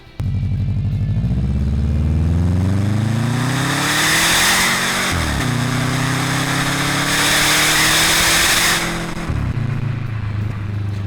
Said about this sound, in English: The turbocharged 2-litre Boxer engine is one of the best sounding 4 cylinders you can buy.